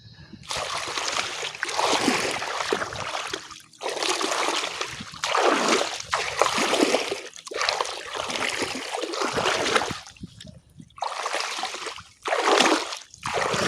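Someone wading into water to fish: repeated loud, close splashing and sloshing bursts of a few seconds each, separated by brief quiet gaps.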